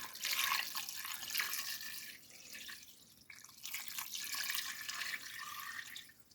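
Hot water poured around the outside of a pot in a 3-quart pressure cooker, a steady hissing, splashing stream that runs continuously, close and fairly loud, easing briefly midway.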